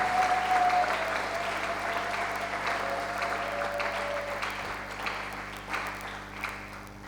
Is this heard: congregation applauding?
yes